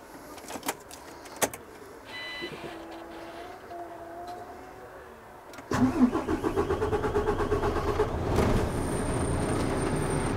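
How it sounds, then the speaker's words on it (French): Clicks and switch sounds come first, then a truck's diesel engine cranks and catches during a heavy-vehicle driving test, settling into a loud, rhythmic, pulsing idle close by. "je vais pouvoir procéder au démarrage du véhicule"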